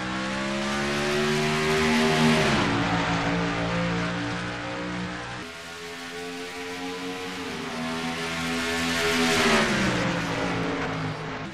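A field of Piston Cup race cars roars off at the start of the Bumper Safe 500 at Phoenix Raceway, a loud, sustained multi-engine drone with rising revs and shifting pitch as the pack passes, no talk.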